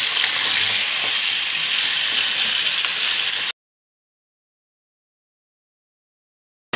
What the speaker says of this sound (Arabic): طلعت الكوارع اهي وبحمرها بقى اهي